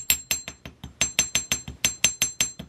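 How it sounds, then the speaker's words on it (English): A small hammer taps a wire loop while making beaded jewelry, giving about a dozen sharp, bright metallic clinks in a quick, even rhythm, close up with no talking. "I'm gonna take my little hammer and"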